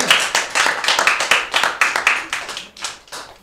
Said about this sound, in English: let's have another big round of applause for your contestants